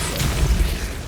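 The Depulso force spell cast in Hogwarts Legacy lands as a short, deep, booming burst with a couple of heavy low thuds in quick succession.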